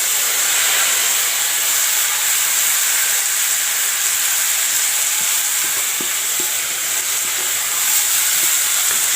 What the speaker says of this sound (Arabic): انك تقلبي الرز تسمعي بقى الشخلله بتاعته دي